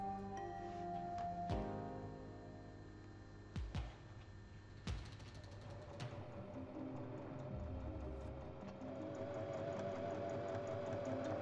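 A sewing machine stitches pocket pieces of a small beginner's bag together in pairs along the top edge, giving a steady mechanical whir with a few brief stops and restarts, close and clear, with no talking.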